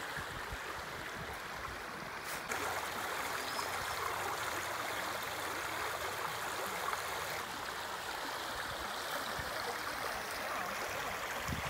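Continuous rushing river water with a fallen tree lying in the stream, a steady broadband wash heard close and alone with no talk.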